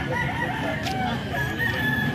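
Stags, young roosters, crow repeatedly in a flock, with drawn-out calls overlapping clucking fowl nearby, moderately loud against steady farm background noise.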